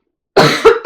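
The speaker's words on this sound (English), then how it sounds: "Pardon, I have to cough again." Three coughs from a person at a cross-stitching session, a longer harsh one followed by two shorter bursts, close and loud with no speech.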